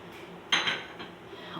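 Almonds are dropped onto sheer khurma as a garnish, giving a couple of light clinks and taps against a dish that sound faint and near.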